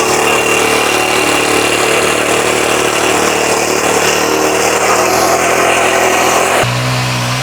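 A small Chinese mini power tiller engine runs loud and close, a steady rough drone that holds level, then cuts to a lower hum near the end.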